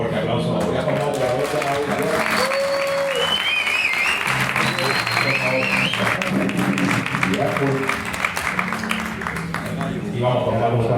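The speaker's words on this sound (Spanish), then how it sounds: "Fuerte aplauso." Loud, dense audience applause blended with music and voices, continuous throughout, on a motorcycle travel podcast.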